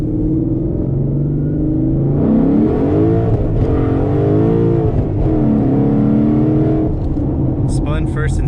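A car launched hard, spinning its wheels through first and second gear: a loud rising engine roar climbs in pitch, drops at the shift, then climbs again close by.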